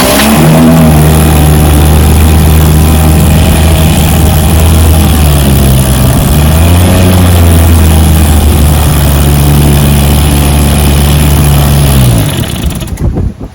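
A 1967 Evinrude 3 HP outboard motor starts up and runs steadily, its loud, continuous engine drone shifting pitch a few times as the throttle changes before cutting off at the end, with no talking.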